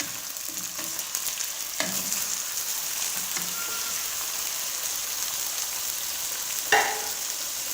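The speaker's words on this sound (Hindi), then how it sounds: "इसको हम फ्राई कर लेंगे, मिक्स करेंगे" One kilo of chicken frying in garlic-ginger paste, a constant moderate sizzle broken by a few scraping stirs and a sharp clatter near the end, with no talking.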